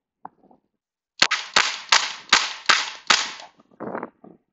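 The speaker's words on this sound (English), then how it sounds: "Do a little rapid fire." Rapid fire from an Umarex XBG air pistol: six sharp, loud cracks in quick, even succession, with a few softer clicks and rustles before and after.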